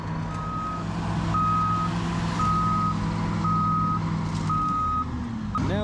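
A big truck reversing at a landfill site: five evenly spaced steady backup beeps over a low rumbling diesel engine, moderately close, with engine note shifting near the end.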